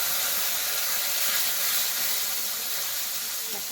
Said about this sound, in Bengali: আর একটু সামান্য জল দিয়ে আর মশলাটা কষিয়ে নিই।